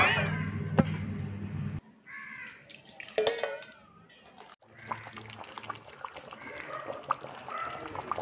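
Water is poured into a Kerala fish curry with ground coconut, a soft splashing trickle broken by brief pauses and quiet kitchen clatter, close by and faint.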